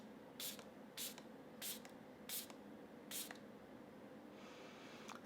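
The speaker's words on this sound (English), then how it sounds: "let's finish everything off with some finishing spray in the form of the Dalba Mist." A Dalba Mist finishing spray is pumped five times in a quick, even rhythm, each spritz a short airy hiss close to the mic, followed by a faint fading mist and quiet room tone.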